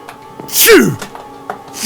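A mushroom creature in Minecraft lets out a single loud, close sneeze with a rising-then-falling squeaky tone, surrounded by soft scattered clicks and background noise.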